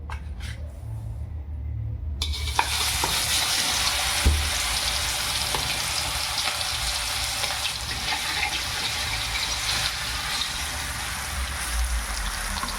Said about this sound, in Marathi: आता ह्याच तेलात आपल्याला कुपा मासा फ्राय करायचा आहे तेल आपला गरमच आहे त्याच्यात आपण हे कुपा मासा फ्राय करून घेऊ